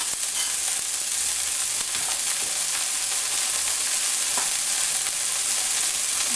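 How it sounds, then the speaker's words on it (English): Green peas with green chilies frying in a pan, a steady dense sizzle with occasional light stirring clicks, close and continuous. "I'm going to fry this for about a minute"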